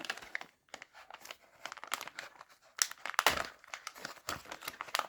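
Plastic packaging crinkles and crackles as a newly delivered knife is unwrapped from its bag, with irregular close bursts of rustling and a louder crunchy flurry near the middle, no talk over it.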